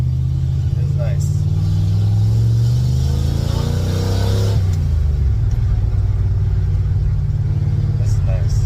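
A truck with a new aluminum radiator and freshly aligned new wheels and tires, heard as a steady low engine and road rumble while driving, with a voice talking over it throughout.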